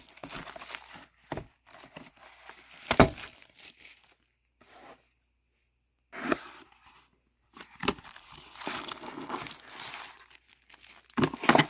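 Plastic packaging from a foldable aluminum tablet and phone stand crinkles and tears in close, irregular bursts, with quiet pauses between handling.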